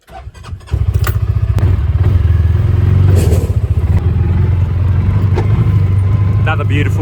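An old lawn mower's small engine, about seventy years old, sputters to life and then runs steadily with a loud, close, buzzing putter, with a few clattering knocks over the top.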